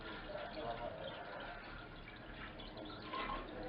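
Green coolant pours into a 1971 Triumph Spitfire, a faint, continuous trickle of liquid filling the radiator, with low background noise throughout.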